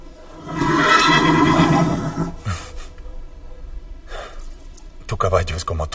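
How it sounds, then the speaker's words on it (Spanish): An angry horse neighs loudly and at length, a strained, harsh whinny close by, followed by snorting and restless movement; the animal sounds agitated with background noise throughout. "Tu caballo es como tú. Está enojado."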